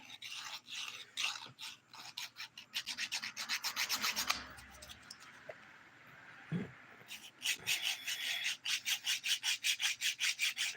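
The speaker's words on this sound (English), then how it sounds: "Smoothing out my sidewall here. Actually, I was using the 100 grit side." A 100 grit nail file rubs along a fingernail sidewall in rapid, rhythmic back-and-forth strokes. The rasping is close and crisp, with a brief quieter pause midway before a fast run of strokes resumes.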